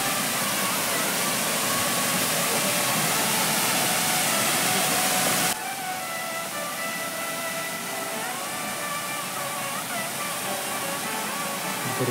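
Gokak Falls in North Karnataka roars as a dense, continuous rush of falling water, loud and close throughout with a slight drop in level partway, no talking heard.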